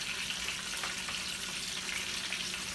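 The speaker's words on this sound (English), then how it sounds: "This is how we fry fish, the Jamaican way." Fish frying in a pot Jamaican style gives a steady, close, dense sizzle of hot oil that crackles evenly throughout with no one speaking.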